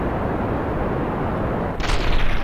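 In Kerbal Space Program, the steady roar of solid fuel boosters gives way to a sudden, louder burst as they explode, all a dense wall of rumbling noise.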